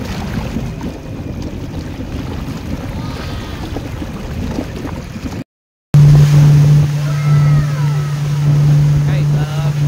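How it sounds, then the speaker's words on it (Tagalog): Strong sea waves slosh and wash against a small fishing boat out on deep water, a steady rough roar of water and wind with a droning motor joining partway through, close and loud. "medyo malakas ang alon."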